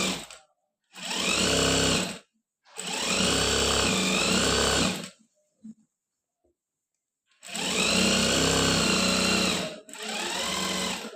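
An electric sewing machine stitches the curved hem of a men's kameez in three steady whirring bursts several seconds long, with short quiet pauses and a faint click between them.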